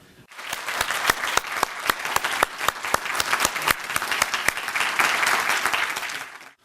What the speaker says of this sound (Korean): 큰 박수로 승인을 받도록 하겠습니다